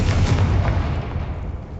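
A Confringo fire spell blasts in Hogwarts Legacy, a loud booming burst that rumbles heavily at first and then tails off over a couple of seconds.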